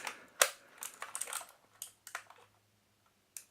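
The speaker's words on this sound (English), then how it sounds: "You can hear the keys are very, very clicky" Crisp clicks from an EasySMX mechanical gaming keyboard tapped in short irregular bursts, with one sharp loud strike near the start and a few isolated clicks trailing off.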